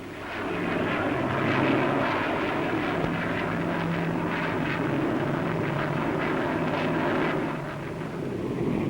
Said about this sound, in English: Another research aircraft, the Bolton Paul 111A, a very fast little delta wing type.